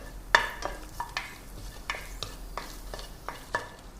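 Sliced red chilies hit hot oil with a soft, steady background sizzle, punctuated by a series of light, irregular scraping and tapping stirs from a utensil, fairly quiet and close.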